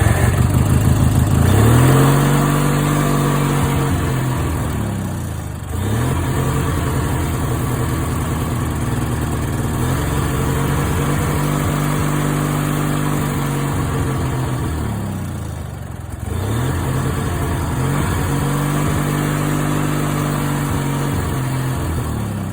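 An 18 hp Briggs and Stratton opposed twin mower engine with custom exhaust runs rough and uneven, loud and close, its tone sagging and recovering in repeated surges as it hunts; no one speaks.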